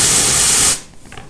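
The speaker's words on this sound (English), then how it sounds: "You spray something with that, and it will reduce the temperature in a hurry." Freeze Mist aerosol freeze spray, which chills to about minus 62 degrees Fahrenheit, lets out a loud, close, continuous hiss that cuts off sharply after under a second, leaving near silence.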